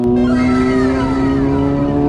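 A Kawasaki Versys motorcycle engine hums steadily and loudly while riding, a sustained close drone with strong harmonic tones and faint wind noise, no voices.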